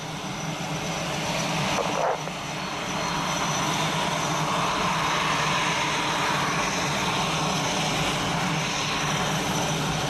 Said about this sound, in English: So, what are these aircraft? They are Mirages.